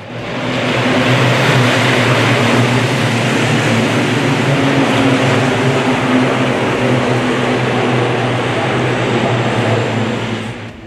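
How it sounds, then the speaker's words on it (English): Racing trucks from the FIA European Truck Racing series roar past at the Nürburgring, a loud, dense engine roar that swells and holds steady for several seconds before easing off at the end, with no voices over it. "The roar of the trucks, very impressive."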